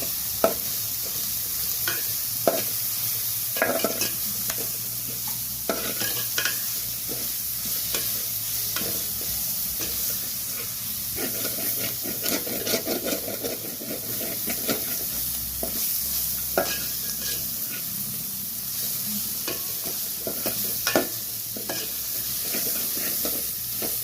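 Onions sautéing in a pan for prawn thokku, a steady sizzle broken by repeated scraping stirs of a spoon against the pan, close and continuous without talk.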